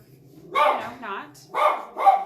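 A dog barks three times, loud and close, with a brief whimpering whine between the barks while a person speaks nearby.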